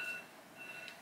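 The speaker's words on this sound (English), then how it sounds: "nag-alarm na ang aking phone" A phone alarm beeps in short, thin electronic tones, two separated beeps over about a second, faint and alone with a soft room hiss behind them.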